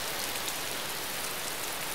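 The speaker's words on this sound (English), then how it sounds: "Since it's nighttime and it's raining" Steady, dense rain hisses without a break during a nighttime scene in the survival video game DayZ, a continuous close wash of falling water with no voices.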